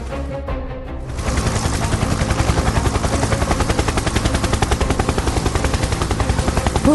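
Cartoon helicopter rotor whirring loudly and steadily with rapid regular chopping pulses, starting after a brief quieter moment and continuing alone.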